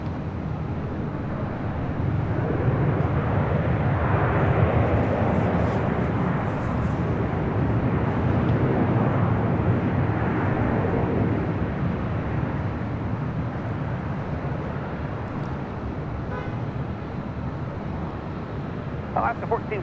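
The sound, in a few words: airliner flight to Atlanta at LAX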